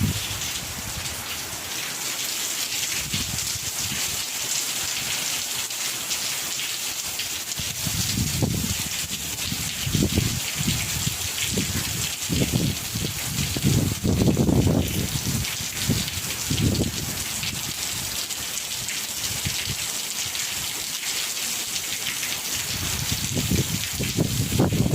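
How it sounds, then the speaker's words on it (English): Rain pours steadily over the Gulf of Mexico on the Yucatan Peninsula, a dense continuous hiss with heavier drips and patters swelling now and then, heard from a dry shelter. "we're finally getting some well-needed rain here. Coming down pretty good."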